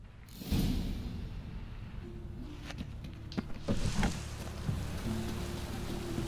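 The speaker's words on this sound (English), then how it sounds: "Rain, I like rain." Steady rain hiss falls in The Witcher 3, a continuous wash of patter that holds at moderate level throughout, with a few brief clicks and soft thuds surfacing over it.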